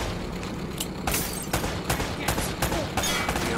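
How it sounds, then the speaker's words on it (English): Rapid gunfire in the action game Uncharted: Drake's Fortune, a string of sharp shots cracking every half second or so over a steady background of combat noise. "Less talking, more shooting!"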